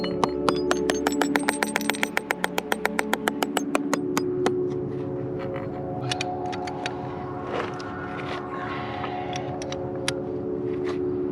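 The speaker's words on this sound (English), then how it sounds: "we're going to gently tap it in" A hammer drives a climbing bolt into rock with a quick, even series of ringing metallic taps. Scattered lighter knocks and clinks follow afterward.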